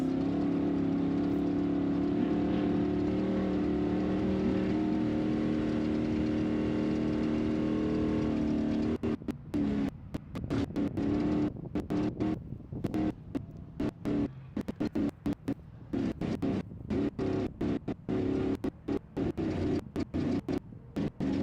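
Ultra4 off-road race cars at a desert race near Laughlin, heard as a steady, distant engine drone and rumble that later turns choppy and broken, with no one talking.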